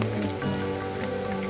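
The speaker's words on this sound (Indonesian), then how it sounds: "Saat hujan mulai reda, kami pasang headlamp dan jas hujan." Steady rain patters across a mountain trail on Gunung Gede at night, a dense continuous hiss with no voices, heard close and fairly loud for the whole moment.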